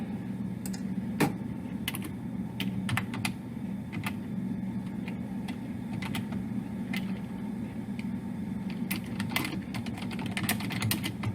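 Typing on a computer keyboard: irregular bursts of crisp key clicks over a steady low room hum, with no talking.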